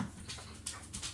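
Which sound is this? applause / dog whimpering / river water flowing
dog whimpering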